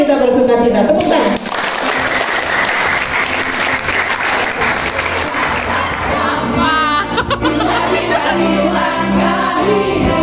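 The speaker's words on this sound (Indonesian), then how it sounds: "Tepuk tangan." A church youth gathering bursts into loud, sustained applause from a crowd, dense clapping filling the room with some chatter mixed in.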